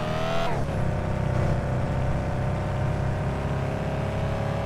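A Tesla car driving in a video game gives a steady, loud engine-like drone that drops sharply in pitch at the start and then holds an even, continuous hum with no talking.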